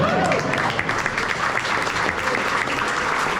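Applause and cheering from a crowd at a farm-focused community event in Worcester County, Massachusetts: dense, steady clapping that fills the whole stretch, fairly close and loud, with no break.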